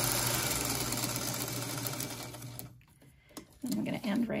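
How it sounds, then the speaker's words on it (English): A sewing machine stitches fabric along a marked line for foundation paper piecing, running in a steady continuous whir for nearly three seconds, then stopping, followed by a few light clicks and brief handling noises. "So I just stick my needle down and just sew right on the line"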